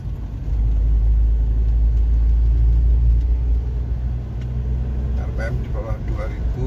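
Car engine pulling in fourth gear at low revs, a loud, close, deep rumbling drone that holds steady throughout, with someone talking over it.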